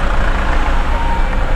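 Dense road traffic in Darjeeling rumbles loud and close as a continuous low engine roar of trucks and other vehicles, with no breaks and no clear voices.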